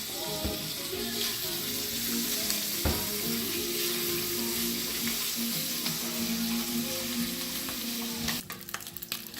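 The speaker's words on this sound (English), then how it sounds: "you add your 2 strips of chopped bacon and you saute those until you've rendered out all the fat" Chopped bacon strips sauté in a pan for dirty rice, a steady close sizzle and crackle of rendering fat with occasional stirring, continuous throughout and briefly interrupted by clatter near the end.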